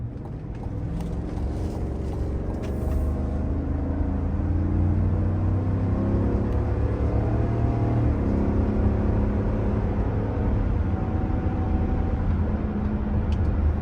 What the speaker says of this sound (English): Let's go ahead and do an acceleration test and test the power of this naturally aspirated V8.